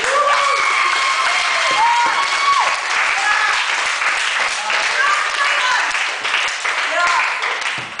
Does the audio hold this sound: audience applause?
yes